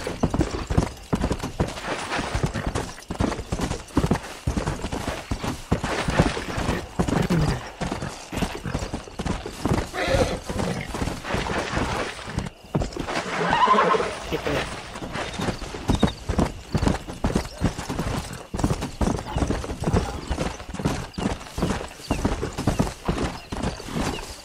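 A horse in the Western game Red Dead Redemption gallops with fast steady hoofbeats throughout, close and loud, and whinnies briefly partway through.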